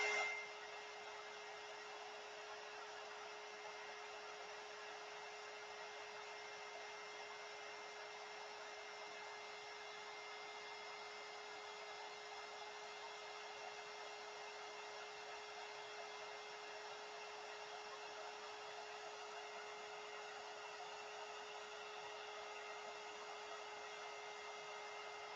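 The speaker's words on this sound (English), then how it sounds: "my heat gun won't reach" Heat gun melting wax during mixed-media crafting, a steady, fairly quiet blowing hum with a constant whine that holds unchanged for the full length, with no voices.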